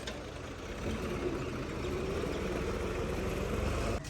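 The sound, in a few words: tractor pulling trolley up through sand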